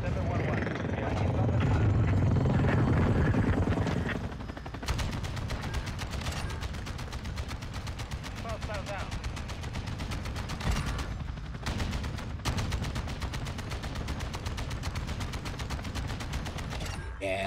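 Sustained helicopter gunner fire from Call of Duty: Modern Warfare 2, with a rapid stream of gunfire after a loud opening rumble, mixed with game noise and players talking.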